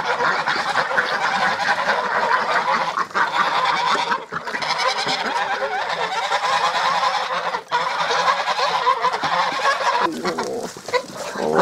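A flock of farmyard geese and ducks honks and quacks continuously at close range in a village yard, a loud, busy chorus with no talk.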